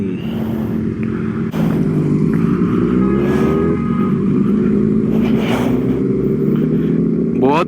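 A Kawasaki sport motorcycle, a ZX-6R or Z800, launching at full power in full power mode with traction control at 1. The engine roars loud and close, its revs climbing in rising sweeps, with a brief dip before it pulls hard again.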